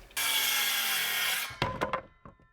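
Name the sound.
saw cutting 2x6 wooden board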